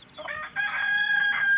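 A rooster on a farm crows once, close and clear, a short rising call that stretches into a long sustained note, heard alone without talk.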